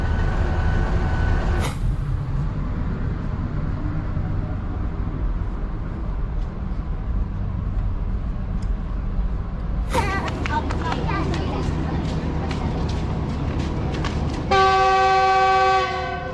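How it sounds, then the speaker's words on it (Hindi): Green Line passenger train from Margalla to Lahore, heard as steady loud rumbling rail noise with a sharp horn-like burst near the start, clattering mid-clip, and a tonal whistle or horn at the end, with voices in the background. "ग्रीन लाइन 6 डाउन को मारगला से लेके जाएगा लाहौर तक"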